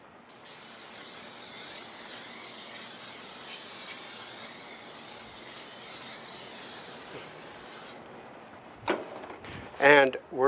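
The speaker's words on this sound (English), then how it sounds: "we're going to go ahead and spray down the grill" Cooking spray hisses onto a grill before chicken goes on: one continuous airy spray lasting about eight seconds, then a couple of brief clatters and handling knocks.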